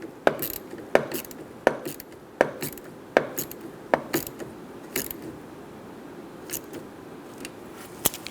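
Ratchet wrench snugging down the negative battery terminal on a 2014-2018 Chevrolet Silverado 1500 5.3L V8, heard as a close series of crisp metallic clicks in short groups, then a few sparser clicks.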